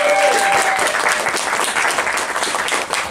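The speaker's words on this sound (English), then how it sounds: "so we're going to get a round of applause for them, please." An audience at an indie game awards event claps in a sustained, dense round of applause that stays loud for the whole stretch, fading only slightly near the end.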